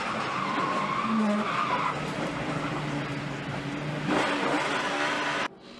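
Onboard a Team Penske NASCAR race car driven by Sam Hornish, crashing with only its left front brake working: loud engine roar and throttle blips mix with screeching tire skids, a sharp surge near the end, then an abrupt drop.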